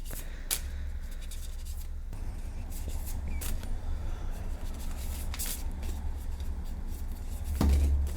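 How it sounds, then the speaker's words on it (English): Tarot cards being shuffled by hand at close range, with soft papery riffles and scattered sharp snaps and taps over a low steady background hum. "now we can reverse and shuffle"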